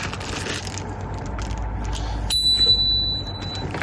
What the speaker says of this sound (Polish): patrz, jaki dzwonek luksusowy